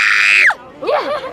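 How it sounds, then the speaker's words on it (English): A loud, high, sustained human scream lasting about half a second, given as a practice scream before a theme park ride at Disney's Animal Kingdom, followed by brief laughing vocal sounds. "let's hear your practice scream"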